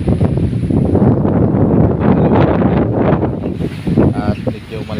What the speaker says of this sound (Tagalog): At medyo malakas pa rin yung hangin.